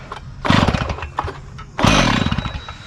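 A Stihl TS 420 gas cut-off saw, used for cutting pavers on a walkway job, pulled to start in two loud bursts of engine sputter that catch briefly and die, close up with no talk.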